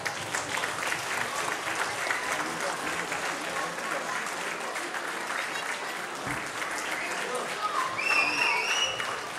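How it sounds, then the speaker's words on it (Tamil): Steady applause from a crowd fills the room at a Tamil association Diwali event in Frankfurt, continuous clapping at an even level with faint voices and a few whistles near the end. "அதனால மீண்டும் ஒரு கைத்தட்டு."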